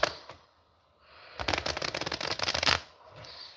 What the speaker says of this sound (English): I'm gonna shuffle these 2 piles up